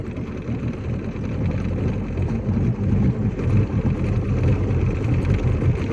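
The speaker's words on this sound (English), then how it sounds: "So she actually started right up, and she's idling pretty good." A jet ski engine idles steadily and smoothly, a close, continuous low rumble with slight uneven throb and no talking.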